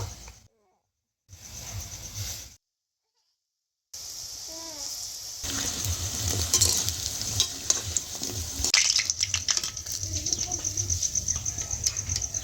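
Lentil rosh bora fritters fry in hot oil in a kadai, giving a steady, close sizzle that starts after a couple of short bursts and silences, then runs continuously with faint voices underneath.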